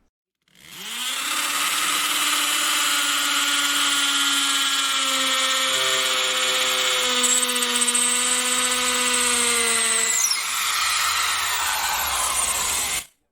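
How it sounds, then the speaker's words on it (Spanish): A Bosch rotary hammer drill in hammer mode at speed one bores into a concrete wall with a 3/8 masonry bit, a loud steady whine with rapid percussive buzz for about twelve seconds, pitch dipping slightly near the end. "El primer taladro rotomartillo que utilizaré será el Bosch en percusión y velocidad 1, con una broca de 3/8 para concreto"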